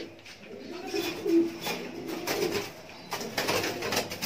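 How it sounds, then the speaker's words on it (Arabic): A homing pigeon coos softly and repeatedly up close in a loft, low murmuring calls coming in short bursts against light background noise. "ده فرد حمام زاجل"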